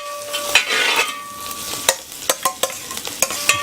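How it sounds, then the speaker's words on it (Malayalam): Ginger garlic paste sizzling in a hot pan for a beef dry roast, with a spoon scraping and stirring in a series of sharp, close clicks over a steady frying hiss. "ഇഞ്ചിയും വെളുത്തുള്ളി ഇട്ട് ഞാൻ നല്ലവണ്ണം ഇളക്കണം"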